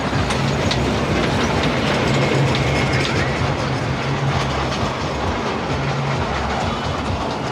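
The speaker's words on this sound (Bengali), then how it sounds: "এই দেখতে পাচ্ছেন ট্রেন রাইড।" An amusement park train ride runs at a night market in Dhaka, its wheels and mechanism clattering and ratcheting steadily and loudly, with a faint low hum beneath and no clear talk.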